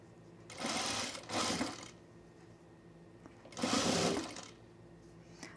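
A serger sewing machine stitching fabric during a clothing refashion project, running in three short bursts of steady whirring with quiet pauses between, close and moderately loud, without talk.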